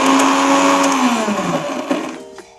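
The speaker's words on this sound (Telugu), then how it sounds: "ఇది కూడా వేసుకుని మిక్సీ పట్టేసుకుందామండి." A mixer grinder whirs loudly, grinding tamarind, garlic and spice powder with water, a steady high motor roar that dips in pitch as it loads up, then cuts off at the end.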